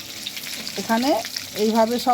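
Marinated chicken, coated in a batter with cornflour, egg and soy sauce, frying for chilli chicken, a steady close sizzle of oil running under a woman's speech.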